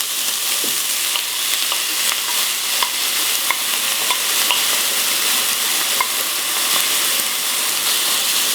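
A courgette carbonara sauce with lardons cooks in a pan, giving a steady, loud, close sizzle with faint scattered clicks of stirring throughout, no voices.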